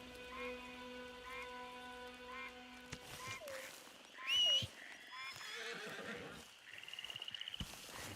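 A horse named Ruby in Red Dead Redemption 2 gives a loud whinny amid clip-clopping hooves and rainfall, with a rapid run of hoofbeats near the end over a rainy outdoor backdrop.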